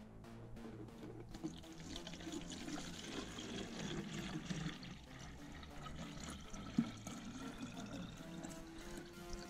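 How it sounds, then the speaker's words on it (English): Sugar water, mixed one-to-one for feeding honeybees, is poured into a clean bottle for a bee feeder, making a steady liquid gurgle and trickle that runs close and moderately loud for the whole stretch. "Fill it up with sugar water."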